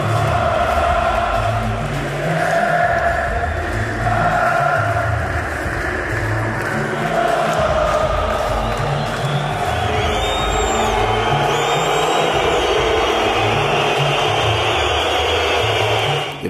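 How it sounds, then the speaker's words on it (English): Fenerbahce basketball fans fill an arena with a loud, continuous crowd roar, and rhythmic low chanting pulses beneath the sustained cheering throughout. "I pulled up and heard the sounds of the Fenerbahce crowd"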